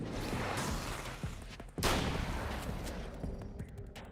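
Gunfire from a shotgun in a spooky video game cracks out in loud, dense blasts, with a sharp burst partway through and some echoing rumble between shots.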